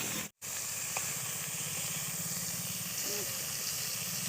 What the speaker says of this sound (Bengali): বন্ধুরা অল্প তেলেও মাছ ভাজা যায়, এইভাবে চেপে চেপে মাছের যে রসটা বের করে দিতে হবে